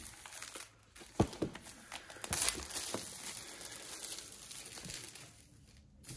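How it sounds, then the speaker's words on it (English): Plastic wrap is peeled off the box of an iPad Air 5th generation in close, crinkling and tearing bursts, with a few sharper snaps and a softer rustle trailing off. "let's go ahead and do the big unwrapping"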